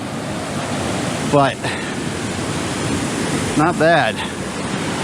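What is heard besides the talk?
water running in a stream under a footbridge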